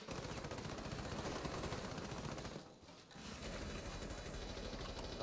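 Dense, continuous automatic gunfire in a first-person shooter match, rapid bursts running almost without pause except for a brief lull midway, loud and close with no voices over it.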